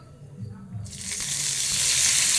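Chicken hits a pan with a little oil and begins frying, a bright hissing sizzle that starts abruptly and builds steadily louder, close up.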